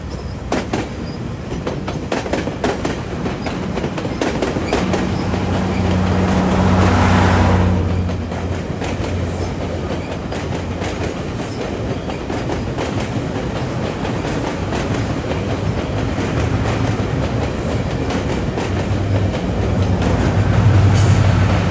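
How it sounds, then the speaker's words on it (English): A commuter train rolls past a busy Toronto rail corridor, a steady heavy rumble with clickety-clack of wheels over rail joints, loud and close throughout with a swell near the start. "Train on the right is heading for Allendale Waterfront"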